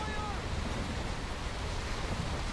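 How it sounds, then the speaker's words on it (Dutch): Big storm waves surge and roar around a sailing ship in Assassin's Creed 4 Black Flag, a dense, unbroken wash of surf and wind that stays loud and steady throughout. "Oh, grote golven. Mijn grote golven."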